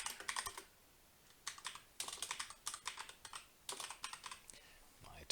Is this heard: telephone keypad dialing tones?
no